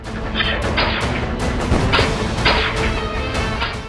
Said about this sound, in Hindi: ताबड़तोड़ गोलियां दागनी शुरू कर दी